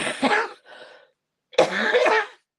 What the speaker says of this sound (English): it's making me cough